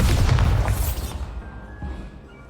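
A Bombarda spell blast in Hogwarts Legacy: one loud, deep booming explosion up close that rolls off into a fading rumble over about a second, followed by faint ringing tones.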